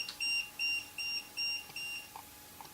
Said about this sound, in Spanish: Los pitidos que se escuchan son interferencias del sensor de campos por la radiofrecuencia del walkie.